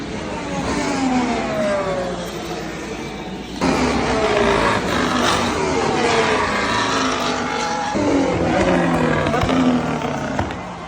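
Formula 1 cars lapping during qualifying at the 2025 Las Vegas Grand Prix, a loud continuous engine roar with repeated pitch sweeps as cars pass, clustered passes overlapping and a sharp rise at about 3.5 seconds.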